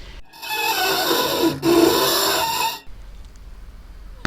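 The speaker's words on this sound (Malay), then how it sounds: "Hamdan mendengar kembali bunyi sesuatu menyerit di tingkap seperti tadi" Something scraping at a window, a ghost story sound effect: a harsh rasping scrape lasting about two and a half seconds with a brief surge midway, then quiet.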